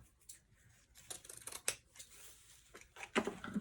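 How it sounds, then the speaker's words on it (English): Scissors snip through a ribbon strip for a wire wreath form in a handful of quick, close, crisp cuts spaced irregularly, with quiet handling rustles between them. "Cut that in half."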